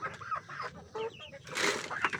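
Several chickens cluck close by in short, uneven bursts, followed by a brief rustle like flapping wings.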